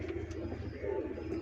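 A pigeon coos in a low, soft, rolling murmur close by, repeating over a short span with no voices.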